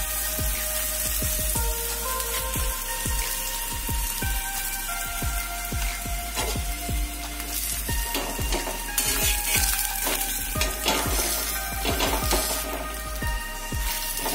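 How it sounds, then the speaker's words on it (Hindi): Missi roti brushed with ghee sizzles on a hot pan, with a steady crackling hiss and many sharp little pops and taps spread across the whole stretch. Nobody speaks. "अब हम रोटियों को सेक लेंगे।"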